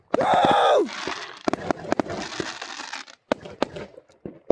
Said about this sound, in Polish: Poszły petardy w górę!